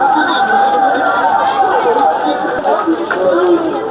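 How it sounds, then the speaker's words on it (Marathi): Large crowd of pilgrims at the Utreshwar Pimpri temple fair in Kej, a dense continuous murmur of many voices and chatter close around. "आज आपण बघितलं असेल तिसऱ्या दिवशी सुद्धा इथं मोठी गर्दी असलेली आपल्याला दिसते"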